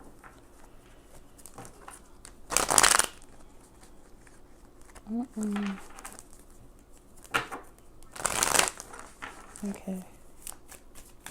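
Two bursts of riffling and shuffling of tarot cards, each a couple of seconds of dense papery flutter, close and fairly loud, with quiet speech and a few soft taps between them.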